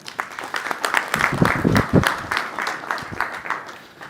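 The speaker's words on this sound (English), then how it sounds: "Let's give a round of applause." An audience applauds for a few seconds, a dense patter of clapping that swells and then begins to thin out.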